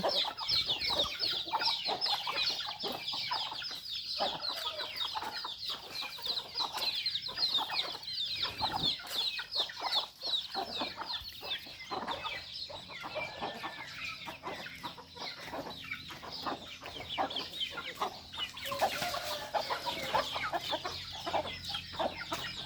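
A flock of chickens clucks and chatters continuously close by, with overlapping calls and occasional louder squawks throughout.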